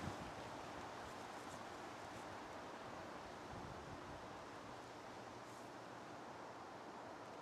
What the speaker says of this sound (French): On va laisser passer le vent, si on veut s'entendre.